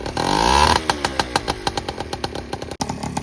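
A big bore Honda Express moped engine warming up after a kick start, revving briefly and then settling into a fast, even putter of firing pulses, close and loud with no talk.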